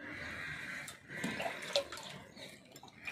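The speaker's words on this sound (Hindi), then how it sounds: "ये हाथ में पानी भर भर के डाल रही है।" Water is scooped up by hand and poured onto plants, giving soft, irregular splashes and trickles that sit close and fairly quiet, with no talking.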